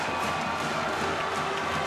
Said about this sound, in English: The Stro applauds.